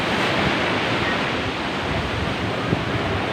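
Strong sea waves and current at Butas Butas beach in Mauban, Quezon, a dense continuous roar of surf with wind noise on the microphone, loud and close throughout.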